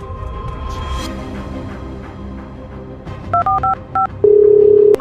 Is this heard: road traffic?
no